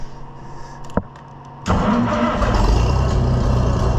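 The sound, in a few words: engine starting and idling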